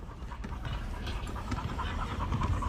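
A dog pants rapidly and steadily on a livestream, quick rhythmic breaths close to the microphone over a low background hum.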